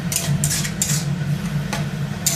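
A utensil stirs spinach and turmeric powder around a pan, with intermittent scraping clinks against the metal over a steady low hum.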